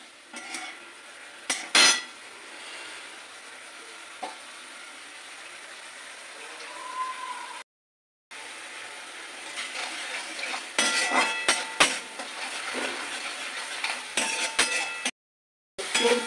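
A mustard-paste spice masala for brinjal curry is stirred and sautéed in a pan. A soft sizzle sits under sharp, irregular scrapes and clinks of a spoon on metal, with brief silences between bursts of stirring.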